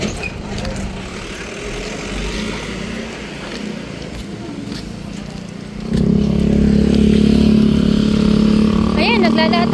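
A motorcycle engine drones at a distance, then grows louder and steadier partway through as it passes near, under ongoing casual conversation.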